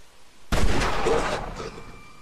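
Gunshots in the video game The Wolf Among Us: a sudden loud shot cracks out of near silence, followed by a rough burst of rapid reports that decays over about a second.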